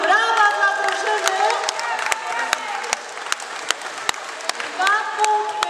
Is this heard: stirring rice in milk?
no